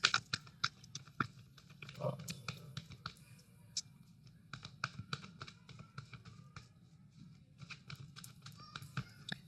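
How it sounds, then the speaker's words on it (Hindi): A deck of tarot cards is shuffled quickly by hand, giving quiet, close bursts of crisp taps and papery flicks in irregular clusters against a soft room hush. "तो मैं कार्ड्स जल्दी से शफल कर रही हूँ।"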